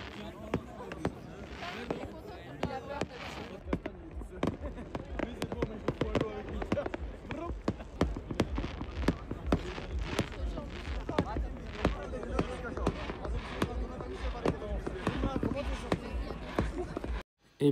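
New Year fireworks over a packed Zurich crowd: a dense run of sharp bangs and crackles repeats throughout, close and loud, over constant crowd noise, with the last burst cutting off abruptly.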